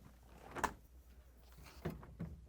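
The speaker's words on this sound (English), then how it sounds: "To get to the part, we need to open both French doors." The French doors of a Whirlpool, KitchenAid or Maytag refrigerator are opened, giving a few soft thuds and rubbing clunks a short distance away, with no talking.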